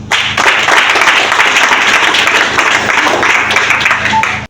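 Graduation ceremony audience at Baraka applauds with dense, sustained clapping that stays loud and even for a few seconds before cutting off abruptly.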